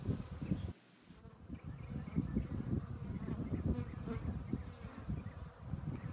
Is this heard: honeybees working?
yes